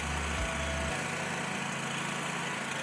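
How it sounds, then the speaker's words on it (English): A pressure washer fitted with a low-pressure tip runs steadily while rinsing a house exterior, giving a constant, fairly loud mechanical engine drone with a low rumble that shifts briefly near the start. "It is the pressure washer machine, but I have a tip on that's real low pressure."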